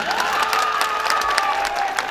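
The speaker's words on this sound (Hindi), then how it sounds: "एक बार अहाँ सब बजियो ताली।" Audience clapping fills the pandal at a live Maithili Kali Puja stage show, a dense continuous patter of many hands with a sustained tonal music line running underneath.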